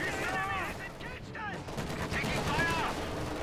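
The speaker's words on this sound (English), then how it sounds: "Ooh, wow, really nice burst from the autocannon right there." A rapid burst of autocannon fire from a 221 armoured car in a wartime strategy video game, sharp repeated shots packed into a few seconds amid dense battle noise with a voice speaking.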